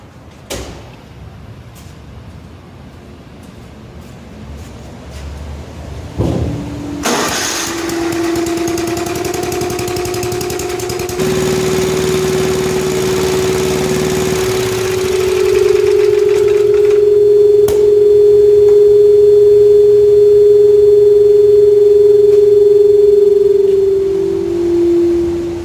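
An Ariens ST824 two-stage snow blower's small engine is pulled, catches and settles into a loud, steady run with a strong droning exhaust hum that rises slightly in pitch and holds, close to the microphone.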